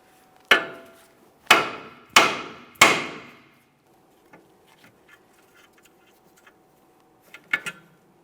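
A hammer strikes a 2008-2017 Mitsubishi Lancer steering knuckle four times in quick succession to drop the tie rod end, loud ringing metal blows up close, followed by faint tool handling and two lighter knocks.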